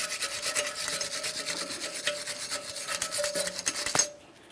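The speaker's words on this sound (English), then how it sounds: "I'll just use a wire brush, get this one cleaned up." A wire brush scrubs a seized parking brake actuator on a 2011-2021 Jeep Grand Cherokee in rapid, continuous raspy back-and-forth strokes, loud and close, stopping abruptly near the end.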